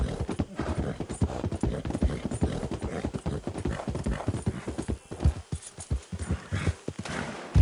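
Galloping horse hooves in Red Dead Redemption 2, a fast, continuous, close clip-clop rhythm that stays loud throughout, with a brief neigh and faint voices under it.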